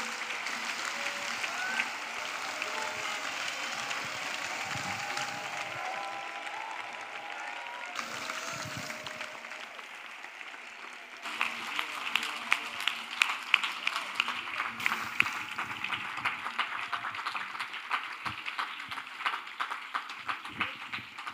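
A church congregation applauds Jesus for a long stretch, a steady wash of many hands clapping together. Partway through it grows more rhythmic and punchy, with distinct sharp claps over the crowd.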